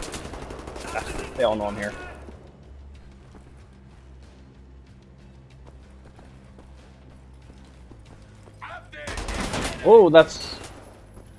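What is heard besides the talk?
dual-wielded gunfire in video game Wolfenstein: The New Order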